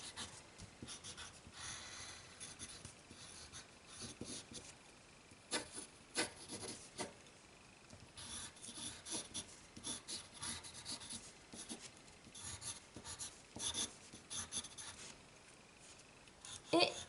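A pencil drawing of Eevee is erased and redrawn on paper, giving soft, scratchy rubbing and stroking sounds in irregular bursts, quiet and close.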